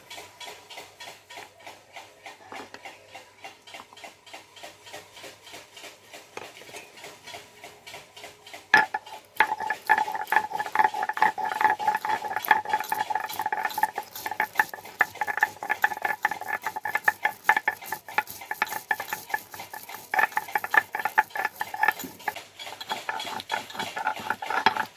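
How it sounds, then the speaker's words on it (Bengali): Mustard seeds and ginger being ground into paste, with a steady scraping and rattling rhythm that grows louder and busier partway through, close by with no talk. "এবারে মাছে দেওয়ার জন্য খানিকটা সর্ষে আর আদা বেটে নেব।"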